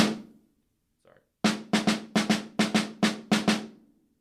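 Snare drum struck with alternating sticking in a measured etude pattern: eight crisp, sharp hits in an even rhythm after a brief pause, close and loud, each with a short ringing decay, no talking.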